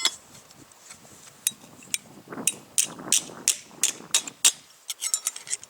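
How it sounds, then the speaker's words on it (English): A hammer strikes a metal spoon to flatten it for a folding survival spoon, a run of sharp metallic taps that speed up into a quick irregular series of close, bright clinks. "we're going to take a hammer and we're just going to flatten this out"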